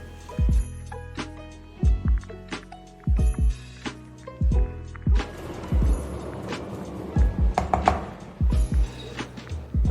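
A ladle working gram flour and sugar together in a bowl for besan laddu, giving a series of irregular, fairly close knocks and scrapes with short pauses between strokes.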